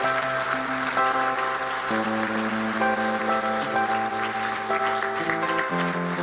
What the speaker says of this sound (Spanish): Dale un aplauso bien grande al Rey de Reyes y Señor de Señores.